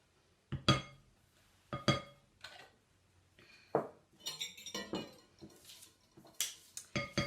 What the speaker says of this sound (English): like to use a spatula to make sure I get everything out of the can